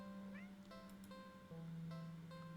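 A cat meows a few times over a steady low hum, with the calls close and fairly clear against the constant background drone.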